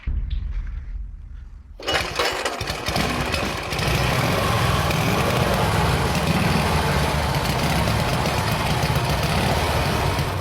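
A vintage military motorcycle engine is started after a short quiet moment, catching abruptly and settling into a loud, steady, throbbing run that fills the rest of the clip up close, with no voices over it.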